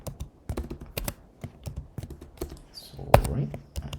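Typing on a computer keyboard the person is still getting used to, a steady run of close, crisp key taps with uneven rhythm and a sharper clack near the end, with no talking over it.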